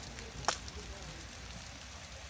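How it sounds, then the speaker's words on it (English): Heavy rain falls on a backyard rose garden, making a soft, continuous hiss of patter with a couple of brief, sharper knocks. "It's raining much harder."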